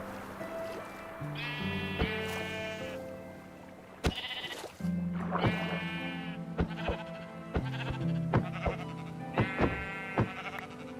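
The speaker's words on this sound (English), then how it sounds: "Sheep, what are you doing in there?" Blocky sheep in a Minecraft modpack game bleat repeatedly in several wavering calls, fairly close and clear over a soft game music bed, with no talking.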